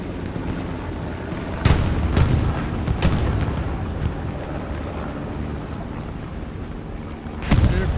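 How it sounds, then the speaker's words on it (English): Distant gunfire in the Hell Let Loose World War II shooter game, a few scattered booming shots over a constant windy battlefield rumble. "What the hell is he shooting at?"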